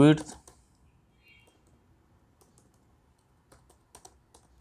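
Someone types on a computer keyboard while entering values into Tally accounting software. The keystrokes come as sparse, soft clicks, a few scattered taps and then a small cluster near the end. A brief bit of speech opens the clip.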